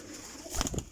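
A Teddy and Cheenia cross pigeon gives a short, faint coo, a brief throaty burst near the end of a quiet, noisy moment.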